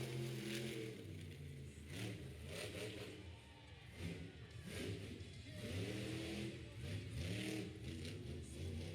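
A mud racing truck at a motorsports event in Miami, Oklahoma, its engine revving hard in repeated surging bursts, heard from a distance and fairly faint over a crowd's murmur.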